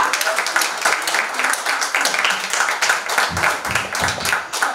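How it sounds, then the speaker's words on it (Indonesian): A church congregation claps during a sermon, a dense patter of many hands that swells and keeps going for several seconds, with a voice speaking over it partway through. "Tepuk tangannya dia."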